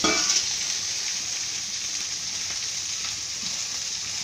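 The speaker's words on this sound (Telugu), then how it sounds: "ఇదిగోండి ఆకు వేస్తున్నాను." Fenugreek leaves dropped into hot oil in a pan, a steady bright sizzle that flares briefly as they land, then settles into continuous frying crackle.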